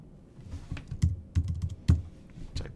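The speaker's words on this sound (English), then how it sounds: "Type Jenny, push the button" Keys clack on a computer keyboard in short irregular bursts, close and fairly quiet, with a few louder strikes and no voices.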